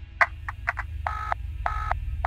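Short repeated electronic telephone tones sound just after a call is hung up, with clipped beeps followed by longer steady tones over a low hum.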